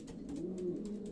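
A racing pigeon coos in a steady, low, continuous murmur, fairly quiet and heard alone.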